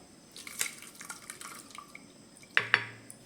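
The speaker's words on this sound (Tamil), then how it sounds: "இப்போ நம்ம இருத்த ரச தண்ணியை இதில் கொஞ்சம் ஊற்றிக்கலாம்" Rasam water is poured into a pot of horse gram kuzhambu in a home kitchen, a faint trickle with a few soft drips and a couple of sharper splashes near the end, quiet and close with no talk.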